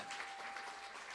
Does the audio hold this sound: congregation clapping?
yes